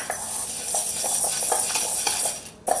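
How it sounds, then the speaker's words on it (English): Spices being stirred into wheat grain for milling into whole grain rye sourdough flour, a steady gritty rustle with soft rhythmic scraping strokes, close up and alone. "I'm just going to kind of stir this up."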